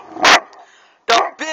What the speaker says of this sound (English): I'm gonna get him barking. Oh, it's a big English Mastiff.